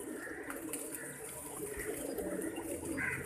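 A pigeon coos softly at close range, low murmuring calls repeating over a noisy background.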